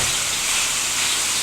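Bacon strips sizzle as they start cooking on a black stove, a steady, close hiss that holds at an even level from start to finish.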